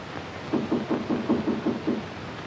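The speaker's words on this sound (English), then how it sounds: "I heard this knock on the door" About eight quick, evenly spaced knocks on a door at night, heard clearly and alone in a quiet room.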